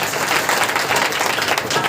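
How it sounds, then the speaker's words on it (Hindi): A church congregation claps hands together through a Sunday worship meeting, producing dense, continuous applause that stays loud and steady throughout. "फिर से ताली बजाकर महिमा देंगे।"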